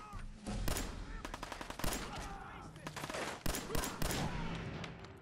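Gunfire in Fallout 4, with repeated sharp shots and bursts of automatic fire at uneven intervals, loud and close, over a busy game soundscape.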